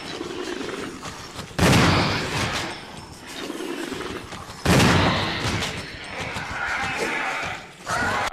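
Shotgun blasts aimed at a Hunter creature in the game Resident Evil REmake: two loud booming discharges a few seconds apart, each with a long reverberant tail, over a steady background of game ambience.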